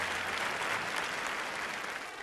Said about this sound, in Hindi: जोरदार तालियां कम ऑन बच्चन सर के लिए